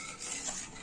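A spoon scrapes and clinks softly against a pot while tamarind pepper rasam is stirred. The sound is brief and quiet, with faint sizzling beneath and no voices.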